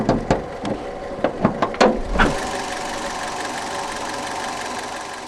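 A 2013 Chrysler Ypsilon's naturally aspirated 1.2 litre single-overhead-cam 8-valve inline-4 cranks with a few sharp mechanical clacks, then catches and settles into a steady, close idle hum.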